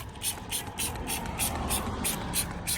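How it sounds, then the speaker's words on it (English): An iron decon wheel cleaner is sprayed onto a car wheel in quick, evenly spaced trigger spritzes, about eight sharp hissing bursts close to the microphone. "this has a little bit of iron decon in it as well, so that's why I'm spraying it on the wheel"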